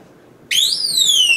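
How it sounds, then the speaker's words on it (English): A sudden loud electronic tone starts partway through, a high steady alarm beep with a slight downward sweep from a safe's security alarm, close and continuous until the end. "Now we got an alarm that will let you know if somebody's trying to get in there"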